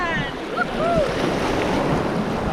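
Atlantic Ocean waves wash onto a volcanic sand beach on La Gomera, a broad continuous surf rush with wind noise and faint voices in the background.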